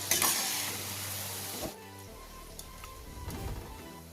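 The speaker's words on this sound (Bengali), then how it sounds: "এইভাবে বাকি ফুরুলিগুলো ভেজে নেব।" Ripe mango fritters sizzle and crackle in hot oil, a loud hiss at first that settles into a steady, quieter bubbling with faint clinks.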